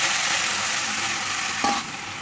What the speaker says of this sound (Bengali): তো এখন আমি জলটা দিয়ে দিচ্ছি